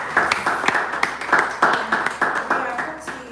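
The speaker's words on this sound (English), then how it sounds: "A round of applause to all our" Applause at a panel event for an app launch, a small group clapping in uneven, distinct bursts nearby, moderately loud, with individual claps standing out.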